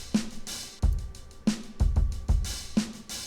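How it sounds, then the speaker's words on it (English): Vintage-style drum loop built from one-shot samples in FL Studio: punchy kicks and crisp snare hits in a steady groove, with bright hi-hat ticks layered over the top, played alone and fairly loud. "this is actually a vintage drum kit I was working on"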